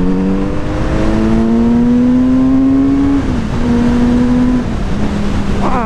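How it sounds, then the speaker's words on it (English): A 2023 Kawasaki Z900RS inline-four engine revving hard under acceleration, a loud smooth rising whine that climbs through the gears with brief dips at the shifts, steady and close. "wow, this engine is silky smooth"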